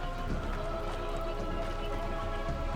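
Steady rain falls in the video game RimWorld, a continuous dense patter with no breaks, with faint low rumble beneath.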